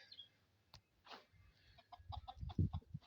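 A rooster in a backyard poultry run near rabbit hutches gives short clucks and a brief call, faint and close, with scattered soft rustles and knocks around it.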